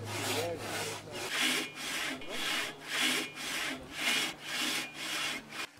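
A hand saw cuts through wooden planks in steady back-and-forth strokes, about one per second, close and rasping, with no voices.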